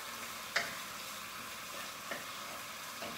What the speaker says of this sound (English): I'm gonna stir fry that.